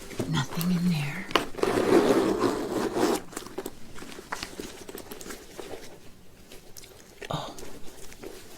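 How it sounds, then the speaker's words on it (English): Zipper on the back pocket of a purse being worked open, a short scratchy burst of zipping and rubbing close up, followed by soft handling noises and quiet whispered narration. "Let's check the back zipper."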